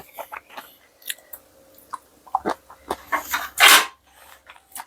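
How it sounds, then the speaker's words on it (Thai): Someone chewing a Thai koi salad made from congealed blood, with the moist, jelly-like crunch and smack of bites coming close and irregular, growing louder toward the end. "เหมือนเรากินตับ อ่ะ เคี้ยวไปงึบกึบกึบ"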